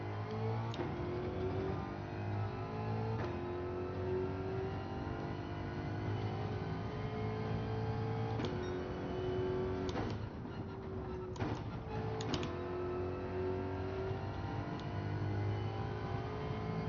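Race car engine in the video game Gran Turismo 7, a steady droning tone with gear-change steps and a few brief dips, loud and continuous under faint talk.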